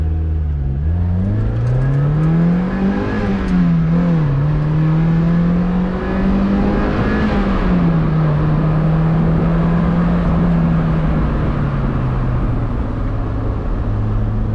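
A stock NB Mazda Miata engine drones steadily close by, its pitch climbing and dipping as it revs and accelerates through gears, loud and continuous without talk.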